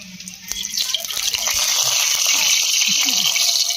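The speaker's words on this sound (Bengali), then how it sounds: "কড়া গরম হয়ে গেছে, কড়ার মধ্যে তেল দিয়ে দেবো।" Cooking oil pours into a hot wok for a fish curry, a loud, steady rushing hiss that swells after the first half second and holds to the end.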